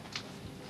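A telephone number is dialed with a quick pair of electronic keypad tones, short and faint, in a quiet indoor room.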